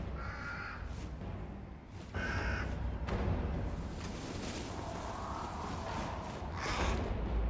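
A crow in the video game Remnant: From the Ashes gives a few loud, harsh caws early on, then the game's dense rumbling ambience and effects continue without voices.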